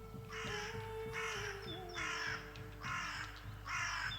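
Crows caw loudly in five regular, evenly spaced calls over a steady low outdoor hum, with faint higher birdsong threaded underneath.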